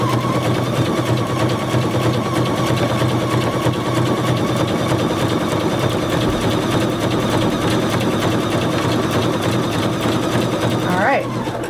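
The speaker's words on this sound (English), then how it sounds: "all I'm doing is stitching straight down the middle of this ribbon" A sewing machine runs steadily, stitching straight down the middle of a glued ribbon on fabric, a continuous close mechanical whir that holds for nearly the whole stretch before stopping at the very end.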